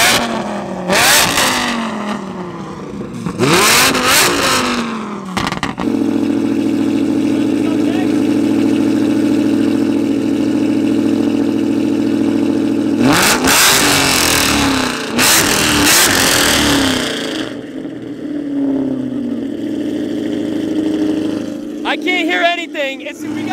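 A Lamborghini Huracan's engine revs hard in sharp bursts near the start, then drops into a long steady idle drone before another pair of loud revs, with people talking and reacting around it.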